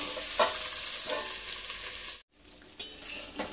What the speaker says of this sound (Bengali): গ্যাসের আঁচটাকে মিডিয়াম করে এবার আবার ঢাকা দিয়ে দিয়ে আমি আবার ভেজে নেব।